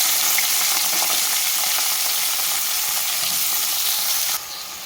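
Brinjals frying in hot oil in a pan for a brinjal and groundnut spice curry, a loud, steady dense sizzle throughout that drops slightly in level near the end.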